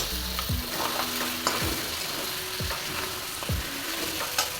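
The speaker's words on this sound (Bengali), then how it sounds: "এইভাবে মিনিট 2 নাড়াচাড়া করে নিয়েছি" Crab curry with fried potatoes sizzling in a pan, a steady frying hiss punctuated by a few regular scraping strokes of a spoon stirring, close and alone.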